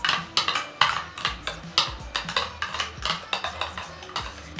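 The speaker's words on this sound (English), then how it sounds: "I'm just going to stir it" A spoon scrapes and taps around a bowl while a homemade two-ingredient face mask is stirred, giving a quick, steady run of close, bright clinks and scrapes with no voices.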